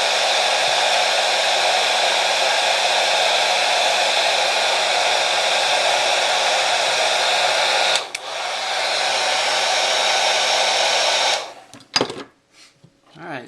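Heat gun blowing hot air to shrink heat-shrink tubing over a spliced bike light power cable, a loud steady close roar of airflow that briefly dips, then cuts off near the end with a few clicks and handling noises.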